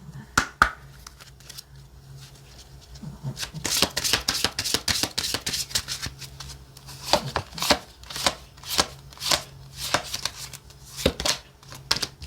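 Tarot cards shuffled by hand during a reading, a run of crisp riffling bursts and soft slaps in steady rhythm, close and fairly loud with no talk.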